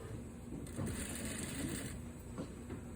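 A sewing machine stitching a pant waistband runs in a steady, continuous mechanical whir for the full three seconds, fairly faint and close, with no pauses.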